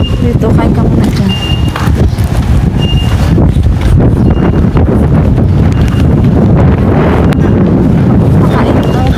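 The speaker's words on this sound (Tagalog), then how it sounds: "Ang hangin." Strong wind buffets the microphone in a steady, loud roar across the whole stretch, with low rumbling gusts outdoors ahead of a coming storm.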